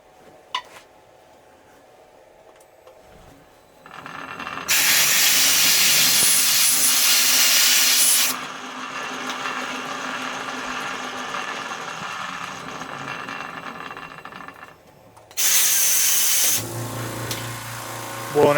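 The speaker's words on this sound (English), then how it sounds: "Blowing out the R8 collet as well. Get any chips out of there so I can get a good test fit." Compressed air blasting chips out of an R8 collet in a lathe workshop, two loud sharp hissing bursts, the first lasting a few seconds, the second shorter, between quieter stretches of shop noise.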